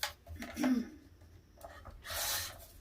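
Scissors or a trimmer cutting the edge off a paper page for a craft journal, a few short close snipping and rasping strokes with a brief rustle of paper.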